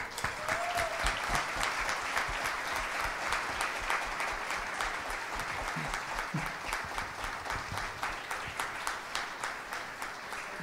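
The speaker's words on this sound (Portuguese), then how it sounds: "Eu acho que você merece todos os aplausos." Audience at the Prêmio Gente Rara 2021 awards ceremony gives sustained applause, a broad wash of clapping that settles into a rhythmic, evenly spaced beat of synchronized claps toward the end, with faint voices beneath.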